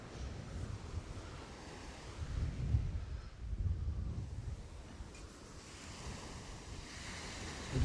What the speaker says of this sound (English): Quite a wind, keep trying to nick my hat.